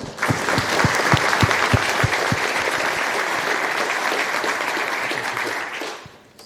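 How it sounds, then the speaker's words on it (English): Sustained audience applause greets a guest lecturer on vision and large language models at an ETH Zurich robot learning lecture, a dense steady wash of many hands clapping that fades out near the end. "let's thank him for being here and give him a big applause"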